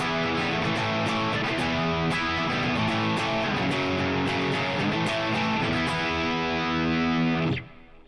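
A distorted electric guitar plays a crunchy, driven tone through a Line 6 Helix preset, chords ringing with thick overdrive for several seconds before cutting off abruptly near the end.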